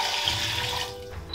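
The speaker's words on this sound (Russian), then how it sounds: "Промыв хорошо 400 грамм риса" Water runs and splashes as rice is rinsed in a kitchen sink, a steady moderate rush that thins out near the end.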